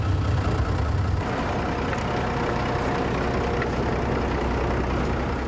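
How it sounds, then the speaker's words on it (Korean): A converted Russian military tracked vehicle's engine roars close and loud, a dense, steady rumble that settles into a constant drone after the first second. "가장 어려운 건 시동 걸기라고 하는데요."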